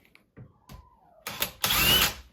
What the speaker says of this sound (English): And then I'm going to just pre-drill the first hole.